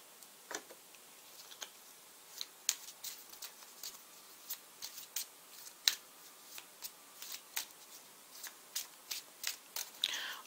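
Tarot cards being shuffled by hand, a quiet run of soft, crisp flicks and taps repeating in an uneven rhythm close by, with no talk.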